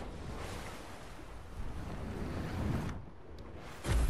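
A waterfall rushes in Fortnite: a continuous, full roar of falling water that briefly dips and then swells again at the end, with no voices.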